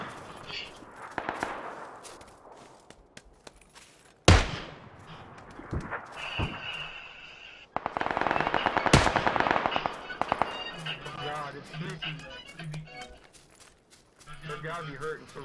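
Game gunfire in a squad shooter, including sniper shots, with sharp loud bursts and scattered shots over busy game noise and voices chatting throughout.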